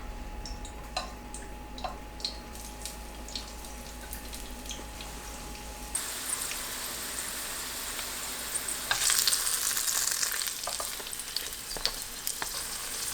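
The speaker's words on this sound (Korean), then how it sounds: "팬에 식용유를 두르고 중약불로 구워주세요" Sweet potato flat dumplings pan-frying in cooking oil over medium-low heat, a steady close sizzle with scattered pops and ticks that grows louder and brighter partway through, with no talking.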